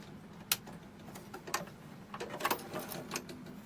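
A sewing machine top-stitches a homemade fabric glasses case, giving a faint, steady mechanical whir with a few sharper ticks and thumps. The sound is quiet and close, with no talking.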